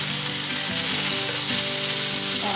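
Pot roast meat sears in a hot cast iron pan, giving a loud, steady, dense sizzle that carries on without a break.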